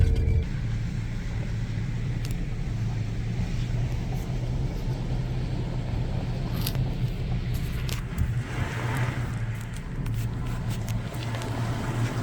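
A truck grinds along a tight forest trail in Temagami, its engine rumbling steadily and close, with scattered knocks and scrapes from branches and rough ground.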